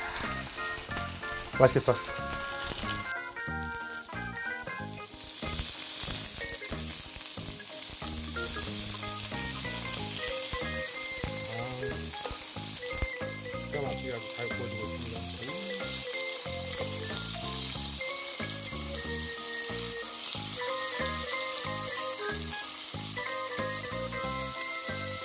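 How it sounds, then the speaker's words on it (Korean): Baby lamb ribs sizzle steadily in a frying pan over moderate heat, a dense, continuous crackle with a brief spatter near the start and a short spoken remark. "아우, 잘 익고 있어요. 이거 너무 센 불에 하면 겉이 타는데 잘 익고 있습니다"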